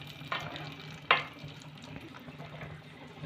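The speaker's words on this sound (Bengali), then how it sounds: "কিশমিশটা ভাজতে কিন্তু বেশি টাইম লাগে না, একটু নেড়ে চেড়ে সবগুলো আমি নামিয়ে নেব।" Raisins frying in ghee in a pan and being stirred, a soft, quiet sizzle with a couple of sharper scraping strokes, close by and without talk.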